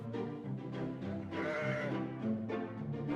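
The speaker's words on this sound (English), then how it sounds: "the distant bleating of sheep" Sheep bleating in repeated wavering calls, several animals overlapping in a steady chorus, moderately loud and not far off.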